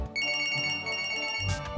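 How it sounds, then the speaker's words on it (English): A phone ringtone plays as an unwanted sound in a recording, a steady tonal melody of bright repeating notes lasting over a second, with no one talking. "Our video contains an unwanted sound, a ringing phone."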